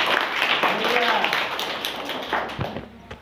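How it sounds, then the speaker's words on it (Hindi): A group of schoolchildren at a village general-knowledge competition claps loudly together, a dense burst of hand claps that thins out over a few seconds, with voices heard over it. "जोरदार ताली हो जाए।"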